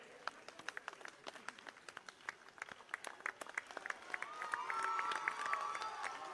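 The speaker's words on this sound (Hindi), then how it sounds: "जोरदार तालियां बजाइए आप सबकी तरफ से" Crowd clapping at an outdoor political rally in New Delhi, scattered claps building into louder sustained applause with cheering toward the end.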